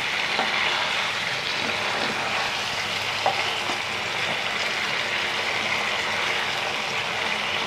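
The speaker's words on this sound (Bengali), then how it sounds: "এটাকে আমি এখন কষিয়ে নেবো ভালোভাবে।" Chicken liver fries with spices in a pan, making a dense, continuous sizzle with occasional scraping as it is stirred, close and fairly loud, with no talking.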